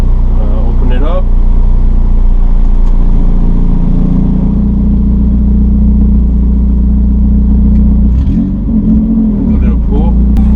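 A 1991 Honda CRX idles with its electric exhaust cutout open, giving a loud, steady, deep exhaust drone close by, with a voice speaking briefly over it.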